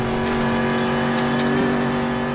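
Homologated race car engine revving hard uphill in a sim racing game, a loud sustained high drone winding out near redline, steady and close without pause.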